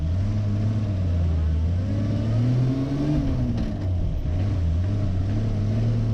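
Continuous engine drone of a 1967 Land Rover Series IIA 109 driving, with a low transmission whine rising and falling under the motor noise.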